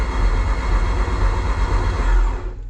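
Freshly rebuilt 1.8 20V turbo engine swapped into a Toyota MR-S being cranked on the starter, a steady loud mechanical churn for about two and a half seconds that then cuts off abruptly.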